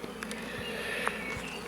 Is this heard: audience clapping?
no